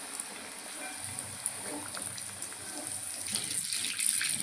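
Peas kachori sizzle in hot oil in a kadai, giving a steady hiss and crackle close by that swells slightly toward the end.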